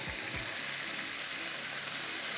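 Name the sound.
water poured onto vegetables in a cooking pan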